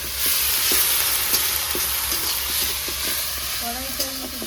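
Ginger-garlic paste hits hot oil in a pan for a spiced meat curry, giving a steady, loud sizzle with light scraping and stirring taps; a faint voice surfaces briefly near the end.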